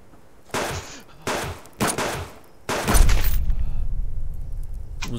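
Gunfire in the video game Subsistence: several separate loud bursts of shots with short gaps between them, followed by a longer, heavier volley with a low rumble that trails off.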